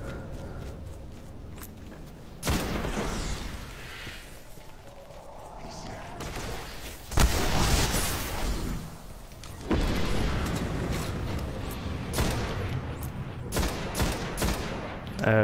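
A weapon fires in the video game Destiny, in loud bursts of rapid gunfire separated by quieter gaps, with some talking in the background.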